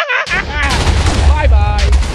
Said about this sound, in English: particle bombs, away